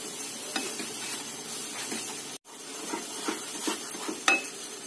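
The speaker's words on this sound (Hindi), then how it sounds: "और फिर हम दूध पाउडर को हलवा में अच्छी तरह से मिला देंगे।" A spoon scrapes and stirs thick guava halwa mixed with milk powder in a pan, with soft sizzling and repeated close scraping strokes, one brief gap of silence midway.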